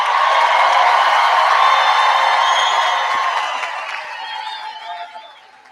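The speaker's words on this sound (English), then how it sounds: "please join me in one more round of applause for the class of" Sustained applause from a large commencement crowd honoring the graduating class of 2025, a dense wash of clapping that holds steady for several seconds before gradually thinning and fading out.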